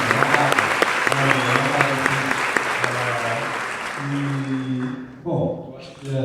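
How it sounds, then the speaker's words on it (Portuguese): An audience at a celebration of the Schumacher school's first year in Brazil applauds the school team, sharp clapping that tapers off after about five seconds, with a voice speaking over it. "Passo uma salva de palmas a toda a equipe da Escola"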